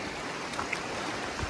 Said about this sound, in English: here's a big river crossing